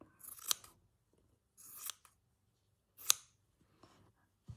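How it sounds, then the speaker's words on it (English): Scissors snip through map fabric being trimmed from a slow-stitched sunflower piece, four or five short crisp cuts spaced apart, close and fairly quiet with brief pauses between. "I might just trim a bit of that map out."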